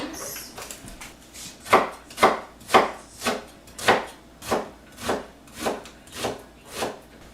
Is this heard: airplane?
no